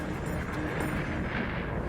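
A strombolian volcanic eruption produces a deep, sustained rumbling roar with booming low energy, loud and continuous throughout without any voices.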